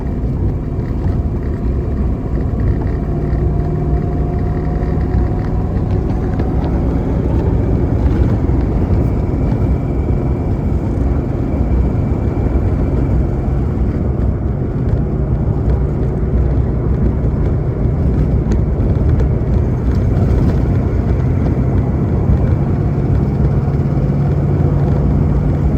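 A 1968 Chevrolet El Camino two-door cruising down Highway 55 on a windy day, a steady low engine drone and road rumble with wind noise, continuous and loud throughout.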